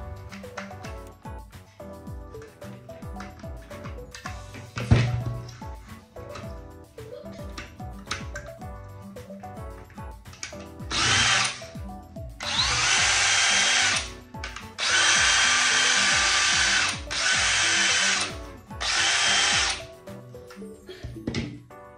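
Cordless battery drill powered by an old rechargeable pack that has just been revived, spinning up in several loud, steady bursts of a few seconds each with short pauses between them, after some quieter clicks and handling.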